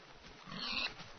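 A Minecraft pig grunts once, a brief low snort in the middle of the clip, quiet and alone without any talk.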